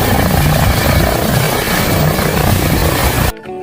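A helicopter's rotor chops steadily and loudly throughout, a dense rhythmic thumping with engine whine, cutting off abruptly near the end.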